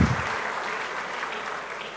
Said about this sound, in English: a loud round of applause for Chancellor Nobles for a great presentation